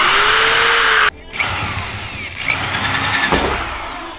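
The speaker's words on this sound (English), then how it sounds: "Actually, I'm gonna get a stronger drill." A stronger power drill cuts through the metal body of an FJ Cruiser to mount a light bar: a loud, sustained high whine that breaks off abruptly, then resumes in rougher, fluctuating bursts.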